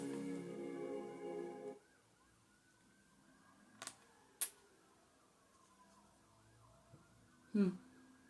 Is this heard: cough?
no